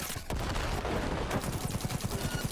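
Rapid bursts of gunfire in Cyberpunk 2077 aimed at animals, a quick clattering string of shots that grows into a fast regular volley, moderately loud and near.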